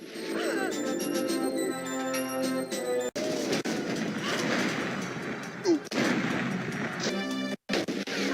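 Gunfire in a GoldenEye video game level: repeated sharp shots and bursts with crashing impacts, interspersed with electronic game music tones, all moderately loud and close.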